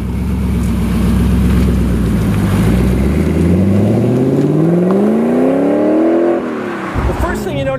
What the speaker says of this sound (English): Driving the Spyker.